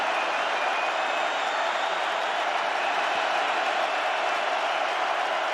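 Steady roar of a stadium crowd at a Florida State versus Syracuse college football game, a dense continuous wash of massed voices holding at one level throughout with no clear peaks.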